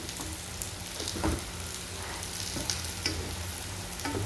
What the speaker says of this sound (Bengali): শাকগুলো নেড়ে চেড়ে এখন সিদ্ধ করে নেব